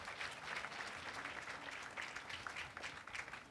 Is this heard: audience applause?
yes